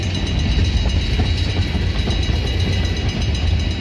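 A freight train of tank cars rolls past on the Milwaukee Road line at Iron Mountain, Michigan, a loud, close, continuous rumble with steady wheel clatter throughout.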